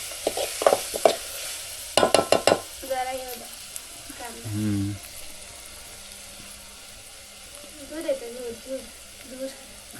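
Cashew curry frying in sunflower oil on a stove, a steady sizzle running throughout with intermittent stirring and clinking of utensils, a few louder scrapes and knocks, and faint voices in the background.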